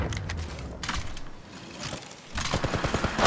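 Enemy gunfire in the mobile battle game Apex Legends Mobile, with loud, dense automatic bursts at the start and again near the end, with mechanical clatter between them.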